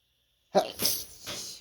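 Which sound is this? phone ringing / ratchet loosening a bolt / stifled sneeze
stifled sneeze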